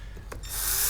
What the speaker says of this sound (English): we're going to drill through each one of these holes, and that'll transfer that hole pattern onto the wheel